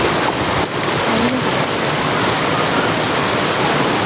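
Heavy rain pours down during an urban flood in Quezon City, with an overflowing river nearby, a loud, dense, unbroken roar of rushing water and downpour filling the whole span.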